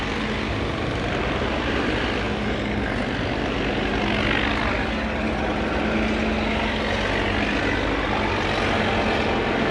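An old engine on a vintage cable-boom shovel at a steam show runs steadily, giving a loud, continuous rumbling drone that holds evenly from start to finish with no talk over it.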